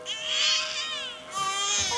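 An infant's cry in a French-language scene, two long wailing bursts separated by a brief breath, close and prominent over a low steady hum.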